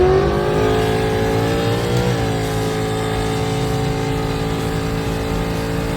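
Drag race car engine roaring loud and close in a sustained high-revving drone, the pitch dipping briefly then holding steady, with no voices.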